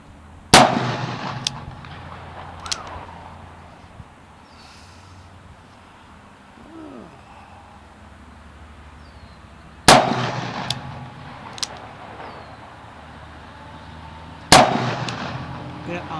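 Smith & Wesson 629 .44 Magnum revolver with a 3-inch barrel firing at a range: three loud, sharp shots spaced several seconds apart, each with a ringing decay, near and alone.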